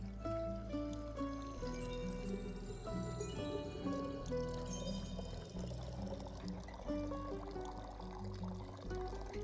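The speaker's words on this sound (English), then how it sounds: "so we drag it over and pour" Liquid pours steadily into a drink being mixed in the tavern video game Tavern Talk, a continuous stream running under a bed of melodic background music.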